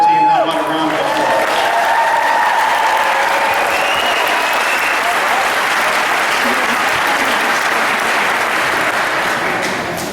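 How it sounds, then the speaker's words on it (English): Sustained applause from a large crowd at a high school graduation, steady and full throughout with a few cheers mixed in, fading slightly at the end. "How about a round of applause?"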